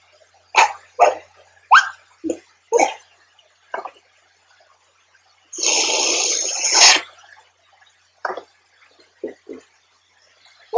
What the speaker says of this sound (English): You're my favorite big red dog.